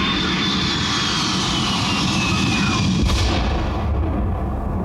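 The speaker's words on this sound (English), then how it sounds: "I'm out of here on the airplane" A fixed-wing airplane engine roars loud and steady throughout, a dense droning rumble with a faint whine that shifts slightly near the end.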